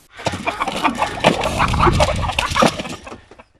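Roosters in a garden cluck and squawk in a busy flurry of short calls, close and fairly loud, with some scuffling in between.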